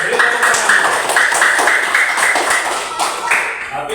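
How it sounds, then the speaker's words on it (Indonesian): A class of students clapping in applause during a teaching session: brisk, fairly loud and close, with a rhythmic quality and some faint voices mixed in. "Oke, beri tepuk tangan."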